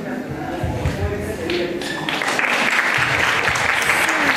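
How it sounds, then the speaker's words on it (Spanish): Guests clap loudly at a quinceañera party, a dense steady applause that swells after the first two seconds, with voices and cheering mixed in throughout. "¡Fuerte las palmas!"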